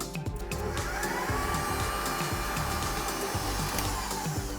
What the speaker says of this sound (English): I'm going to turn the mixer back on and rein in the sugar very slowly